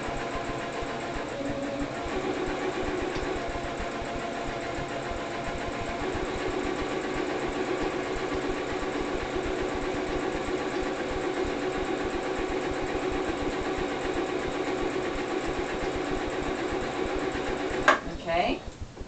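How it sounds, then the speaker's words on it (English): A sewing machine runs a loose stitch straight across scrap T-shirt fabric, keeping a steady, close mechanical whir and rapid needle chatter for almost twenty seconds before it stops with a few clicks. "I'm just doing a loose stitch"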